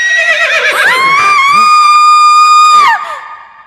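A woman's long, loud, high-pitched scream from a Tamil comedy film scene, wavering at first and then holding a strained, steady pitch for about two seconds before breaking off and fading.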